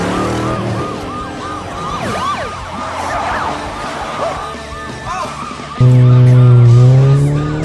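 An East Tennessee police car siren: a loud, close wail that swoops up and down repeatedly, then gives way to a steady, blaring horn-like tone.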